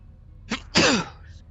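A single sharp sneeze with a short breathy intake before it, fairly close and loud, followed by quiet.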